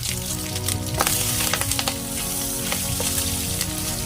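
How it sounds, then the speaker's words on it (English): Pork sizzles and crackles in hot oil while frying in a pan for Bicol Express, rendering its fat, a continuous frying hiss with little pops bursting throughout, close and fairly loud. "Hear that sizzle?"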